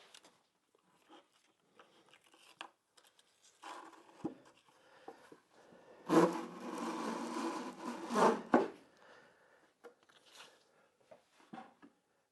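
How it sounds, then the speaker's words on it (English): Sandpaper drawn under a small beginner's wooden bench rasps against the wood in a couple of short pulls, one long, fairly loud scrape in the middle, with quieter light rubs and taps before and after. "draw a little bit of sandpaper underneath and just try one pull and then test it"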